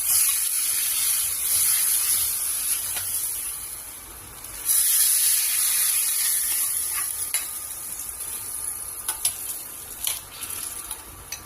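Sprouted horse gram hits hot sesame oil in a pan and gives a loud, continuous sizzle and hiss, with occasional stirring scrapes and pops, and no talking.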